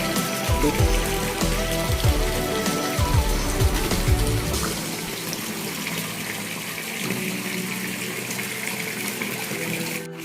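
Water gushes and splashes steadily into an outdoor concrete fish pond as it is filled, a continuous loud rush with a rumbling undertone that eases slightly midway.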